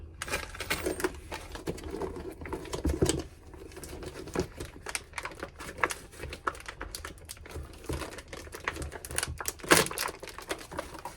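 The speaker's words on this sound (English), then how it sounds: "Finally getting this plastic off." Plastic wrapping being pulled and crinkled off a motorcycle pannier rail for a Honda Rebel 500, close-up irregular crackles and snaps in quick bursts with small taps, no talking.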